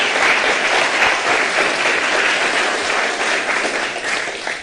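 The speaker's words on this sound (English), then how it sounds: "Can we give CBF a round of applause" A forum audience breaks into sustained applause, dense clapping from a sizable crowd that stays loud and steady throughout before easing slightly at the end.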